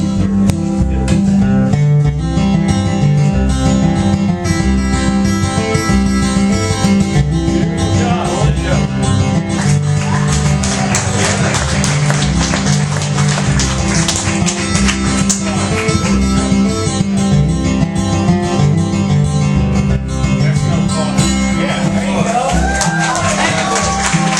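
Bluegrass guitar tune played in a crosspicking style, a dense, continuous flow of picked notes over steady bass, with a full band feel throughout.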